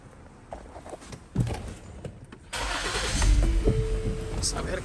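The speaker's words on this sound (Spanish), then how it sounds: "Vamos a prender el carro." A 2009 Lincoln car with a cylinder-five misfire cranks and its engine starts, catching partway through and settling into a steady close idle, with a voice heard briefly.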